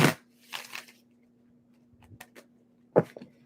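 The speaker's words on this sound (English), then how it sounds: "2 more shuffles for my Cancers." Tarot cards being shuffled in a few short bursts, a riffle near the start and another near the end with quieter handling between, close and fairly soft over a steady low hum.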